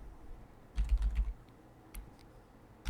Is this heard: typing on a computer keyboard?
yes